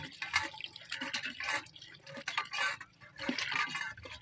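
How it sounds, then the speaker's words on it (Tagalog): Water runs and splashes steadily with strong pressure from a newly installed tap, a bright hissing stream with irregular drips and gurgles, fairly close and continuous. "Medyo malakas naman yung tubig."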